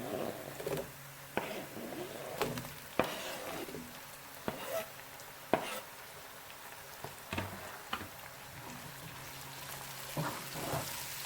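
Tomatoes fry in a pan for a dhaba-style aloo palak and matar, a soft steady sizzle with intermittent sharp pops and crackles and occasional clinks, faint and close.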